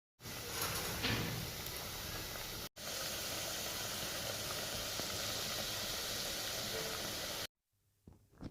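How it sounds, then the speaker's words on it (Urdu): Gulab jamun dough balls frying in hot ghee, a steady broad hiss of bubbling fat that holds for several seconds, briefly cuts out, then stops abruptly into near silence. "گلاب جامن جو ہیں وہ بہت اچھے سے فرائی ہو رہے ہیں"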